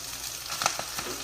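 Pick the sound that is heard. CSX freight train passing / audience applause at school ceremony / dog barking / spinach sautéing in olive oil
spinach sautéing in olive oil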